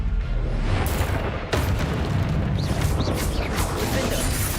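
Incendio fire spell cast in Hogwarts Legacy, a loud, dense roaring burst of flame with a sharp onset midway and sustained rumbling crackle, heavy low boom underneath.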